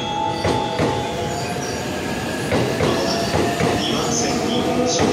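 A 15-car Shonan-Shinjuku Line train rolls into platform 2 at Ikebukuro Station, wheels clacking over rail joints and brakes squealing as it slows beside the platform, with a steady rumble throughout.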